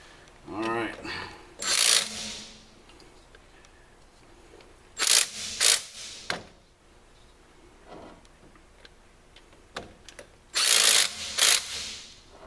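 Bolts being tightened during truck reassembly, with short bursts of ratcheting clicks spaced across the clip, some quick and doubled, between quiet pauses with faint handling noise.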